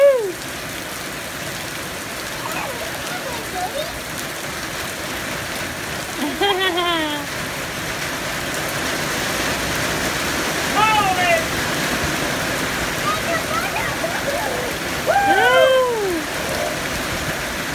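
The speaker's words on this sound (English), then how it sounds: "Oh, Bubby, we've been playing in the rain." Steady rain hisses across the whole stretch, with a cat's meows and a person's voice rising above it now and then.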